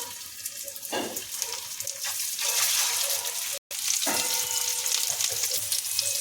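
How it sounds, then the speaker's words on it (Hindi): Raw chicken-mince chapli kababs frying in hot oil: a steady, bright sizzle and crackle with bursts as pieces settle, loud and close, briefly cut by a short silent gap. "तेल हो गया, अब इसमें कबाब डालेंगे।"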